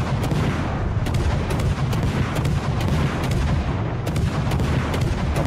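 Repeated ship cannon salvos in a naval video game battle, sharp booming reports recurring roughly every half second to second over a constant loud rumbling background, no voices.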